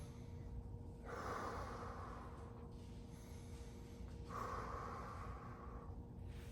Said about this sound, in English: So we inhale.